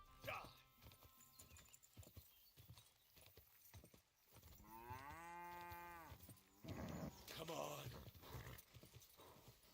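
In a video game, a horse's hooves clip-clop steadily nearby, with a long, drawn-out animal call in the middle, while a person talks over much of it.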